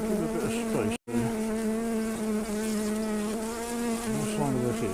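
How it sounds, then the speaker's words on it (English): Honey bees of an early colony buzzing in a back-garden hive, a dense, steady close hum of many wings with a brief dropout near the start, loud and continuous, no voices. "there's a good lot of bees in there."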